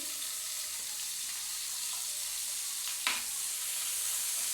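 Pumpkin and eggplant fry in a pan with a steady soft hiss, and a brief sharper crackle or stir sound occurs partway through, close and fairly quiet.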